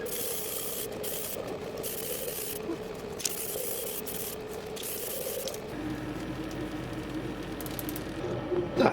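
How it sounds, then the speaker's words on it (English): Steady hiss of an aerosol spray can in bursts, with short pauses between sprays and a clatter at the end. "So I will now go ahead and get these sprayed up"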